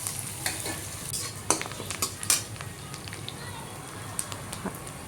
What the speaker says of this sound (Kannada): ಎಣ್ಣೆನಲ್ಲಿ ಫ್ರೈ ಮಾಡ್ಕೋಬೇಕು.